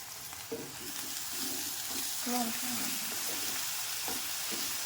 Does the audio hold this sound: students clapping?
no